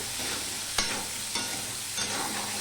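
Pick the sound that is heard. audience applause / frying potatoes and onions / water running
frying potatoes and onions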